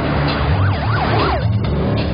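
Ambulance siren on a road: a loud, close wailing tone sweeping up and down in repeated cycles over a low engine rumble.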